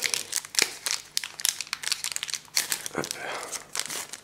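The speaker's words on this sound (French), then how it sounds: "J'aimerais bien essayer de l'ouvrir proprement, parce que j'arrive jamais à les ouvrir comme il faut, ces paquets" A Pokémon card booster pack wrapper being opened, with close, busy crinkling and tearing of foil in quick bursts, and a brief spoken word partway through.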